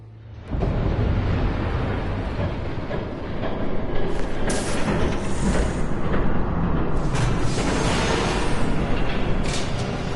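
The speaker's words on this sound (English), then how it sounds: "There's a train coming." In the Batman Telltale Series video game, a train approaches with a rising rumble and clatter that swells and stays loud, with hissing bursts on top and no speech.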